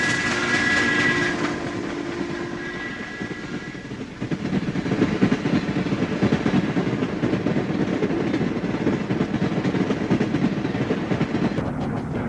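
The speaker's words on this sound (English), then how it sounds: "he was pulling a dirty freight train" A freight train rumbles along steadily with a continuous rolling roar and faint rhythmic clatter, with a brief tonal hum near the start.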